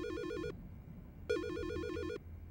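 A telephone ringing in the horror game Silent Hill Shattered Memories, two electronic trilling rings separated by a short gap, clear and prominent over a low ambient background.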